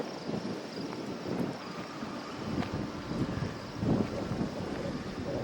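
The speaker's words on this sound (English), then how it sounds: "It's a very windy day." Wind buffets a handheld compact vlogging camera's microphone on a very windy day, a steady low rumbling roar with gusty swells and no clear speech.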